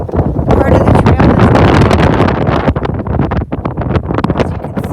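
Gusty wind blasts across a microphone on a winter camping trail, a loud, roaring buffet that surges and dips unevenly with brief lulls.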